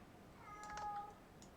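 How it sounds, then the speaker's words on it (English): A cat indoors lets out a single brief meow in springtime. It is faint and a little distant, above a quiet room hiss, with no talking. "that is just my cat going crazy since it's springtime."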